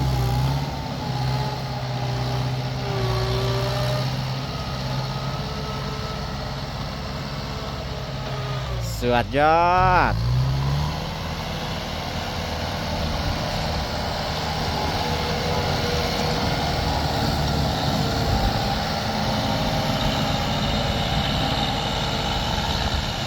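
A Kubota M8540 tractor pushing and leveling soil in a field gives off a steady, close diesel engine drone throughout, and a man briefly exclaims midway.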